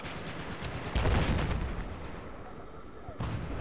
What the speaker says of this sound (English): Counter mortar incoming.